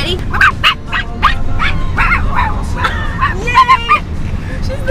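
Amid lively group chatter, people imitate animal noises, with voices mimicking a dog's barks and yips in a quick series of short, loud, nearby calls.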